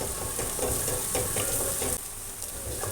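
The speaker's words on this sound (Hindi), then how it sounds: "हल्का सा फ्राई करना है, बस ज़्यादा नहीं करना।" Sliced ridge gourd (torai) with onion lightly frying in a pan, giving a steady, close sizzle with faint stirring scrapes throughout; no speech.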